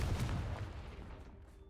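Confringo blast spell cast in Hogwarts Legacy, a sharp explosive burst at the start with a rumbling, decaying tail that fades quietly over under two seconds.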